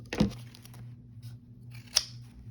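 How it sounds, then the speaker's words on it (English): Large fabric scissors snip through fabric twice, a crisp close cut right at the start and another sharp snip near the end, with quiet between them. "with the larger scissors, they cut just as well"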